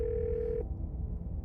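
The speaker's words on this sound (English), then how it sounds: "The phone rings." A steady electronic telephone tone sounds in the Scarlet Hollow horror game, lasting about half a second before cutting off, over a low background rumble.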